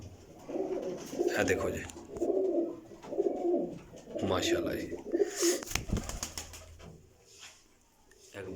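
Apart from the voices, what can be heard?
pigeons cooing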